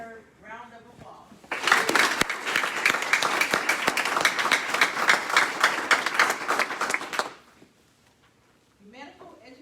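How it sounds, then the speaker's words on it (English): An audience at a military pharmacy program graduation ceremony breaks into sustained, dense applause lasting about six seconds, then fades, with a voice speaking just before and after. "Please give all of our students a well-deserved round of applause."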